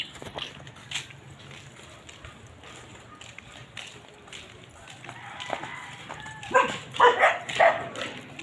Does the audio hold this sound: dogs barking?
yes